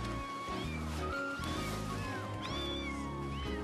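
Kittens meow in several short, high, rising cries, scattered and overlapping, over a steady droning background.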